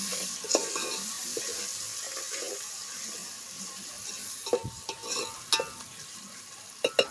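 Tomatoes stir-fry in a pan with a soft continuous sizzle under scattered spoon scrapes and light knocks. The knocks grow more frequent toward the end.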